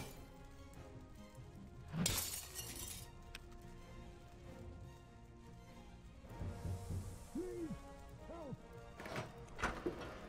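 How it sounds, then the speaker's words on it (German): Glass smashed in the video game Dark Canvas: a sharp, bright crash bursts out early, with another crashing burst near the end, amid quieter game ambience and a voice. "aber zuerst muss ich das Glas zerschlagen."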